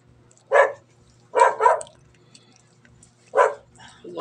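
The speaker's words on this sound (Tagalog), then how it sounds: "Ayan yung aso natin guys." A dog barks four times in short, sharp bursts with pauses between, fairly close, over a quiet low hum.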